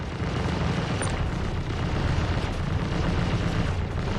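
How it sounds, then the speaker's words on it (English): Heavy cannons firing close by aboard a ship in a space combat game, a continuous loud rumbling roar of blasts merging into one dense low wash with no gaps. "I'm shaking so much because the cannons are firing right next to me"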